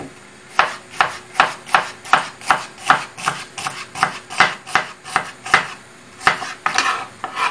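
Onions are chopped with a knife in a fast, regular run of loud, close crunchy strokes, roughly two per second, with a brief pause near the end and no talking.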